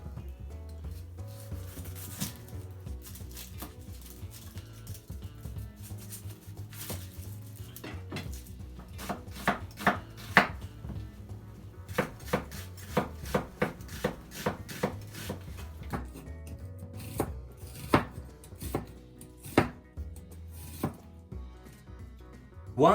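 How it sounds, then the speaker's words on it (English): A knife slicing onions on a cutting board while preparing a teriyaki sandwich, with a steady run of close, sharp chopping taps that quicken and cluster in the middle, over low kitchen hum. "Once you slice the onions"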